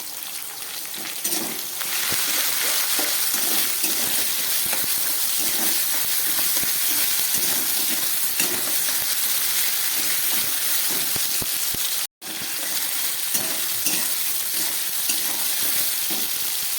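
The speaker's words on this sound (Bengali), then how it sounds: "আলু বেগুনটা একটু ভেজে নিচ্ছি।" Potato and eggplant frying in hot oil with salt, slit green chillies and turmeric paste, a steady close sizzle and hiss that runs almost without pause, broken only by a brief cut near the end.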